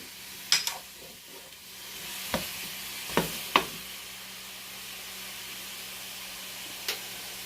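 Apple pie filling cooks down in a pan, giving a soft, steady sizzle and hiss, broken by a few sharp clinks of a spoon or utensil against the pan.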